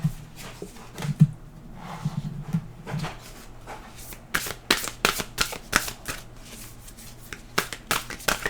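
An oracle card deck shuffled by hand, starting with soft rubbing and sliding, then a run of quick, crisp riffling flutters, close and fairly quiet with nobody speaking.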